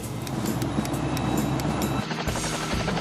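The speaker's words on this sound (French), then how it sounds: "Je suis dans l'hélicoptère." Helicopter in an animated Fireman Sam episode, heard as a steady low rotor drone with a dense rumbling wash that holds continuously throughout.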